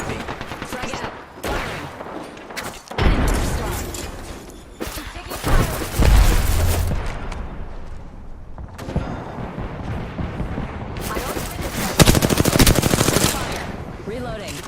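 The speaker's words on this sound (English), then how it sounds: "I am taking fire, friends." Rapid video game gunfire crackles in dense bursts with booming impacts, loud and close at times, while a player talks over the action throughout.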